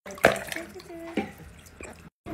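A fidget toy drops into hot tub water with a sharp splash near the start, followed by soft drips and small sloshes, with another brief splash later. Speech is faintly present in the background.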